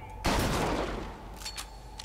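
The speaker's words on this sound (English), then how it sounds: "So it's like a fire shotgun." Heater fire shotgun in Bioshock Infinite lets off a single loud, close blast, followed by a roaring, hissing tail that slowly fades over the next couple of seconds.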